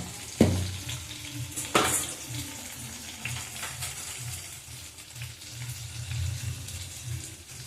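Turmeric and spices being sautéed in a pan for yogurt chicken, a steady low sizzle with a couple of sharp clatters of a spoon early on, close and moderately loud, no talking.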